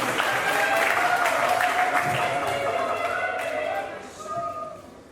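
An audience at a campus question-and-answer session at IKIP PGRI Wates applauds the speakers and moderator, a sustained clatter of many hands that gradually thins out, with some voices mixed in toward the end.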